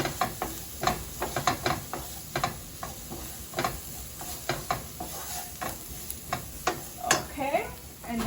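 Flour roux being stirred in a pan for chicken piccata, a steady scraping and stirring with a faint sizzle and irregular clicks of utensil against the pan, close and continuous.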